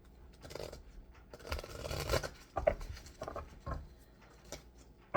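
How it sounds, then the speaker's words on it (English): Soft, papery shuffling and riffling of tarot cards in several bursts, close up and fairly quiet, with no talking. "Do 2 more shuffles."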